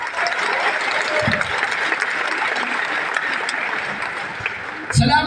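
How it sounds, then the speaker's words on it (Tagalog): A congregation claps loudly for their pastors during a Pastor Appreciation Month church service, a sustained full round of applause filling the room, with a brief louder burst near the end. "Malakas, pwede bang malakas na palakpak?"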